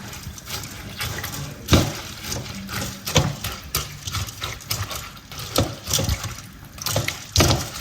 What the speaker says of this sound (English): Go ahead and wash my Sobolo leaves or hibiscus flower.